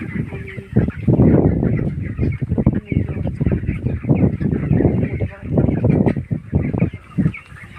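Chickens cluck and squawk throughout a poultry shed, a busy overlapping flock close by and fairly loud, with a faint voice briefly under the birds.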